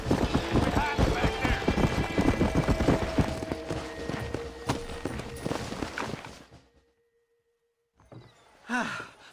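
Galloping horse hooves pound in a steady, dense rhythm in the Western video game Red Dead Redemption, loud and close for several seconds, then cut to near silence before a brief burst of game sound returns.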